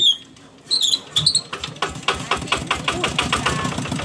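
A walk-behind farm tractor engine starts and runs with a close, rhythmic knocking chug, preceded by a few high chirps before the engine noise builds.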